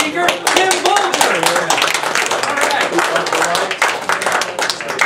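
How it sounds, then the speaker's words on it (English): Audience applause for a guest speaker at an evening talk on coffee: dense, steady clapping from a crowd, loud and sustained, with voices mixed in. "Let's have a warm round of applause for our speaker, Tim Bolger."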